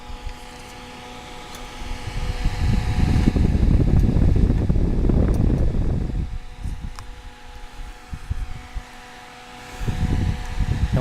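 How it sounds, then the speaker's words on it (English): A space heater's fan blows hot air off its heating elements with a steady broadband whoosh that swells loud in the middle, drops back near the end, and rises again briefly, with no talk over it. "This fan just blows the hot air away from the heating elements."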